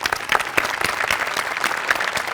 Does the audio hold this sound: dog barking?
no